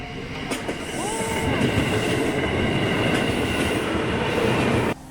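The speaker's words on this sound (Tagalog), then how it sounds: "And andito na guys yung train sa likod natin." A train passing near the JR Hakata crossing in Fukuoka, Japan, a steady rolling rumble with clattering wheels and a brief squeal, fairly close, ending abruptly.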